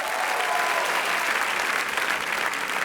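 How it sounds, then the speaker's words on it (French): A theatre audience at a Paris comedy gala applauds a comedy duo, a dense, loud, continuous ovation of many clapping hands with no pauses. "Je vous demande d'applaudir très fort Cuche et Barbeza"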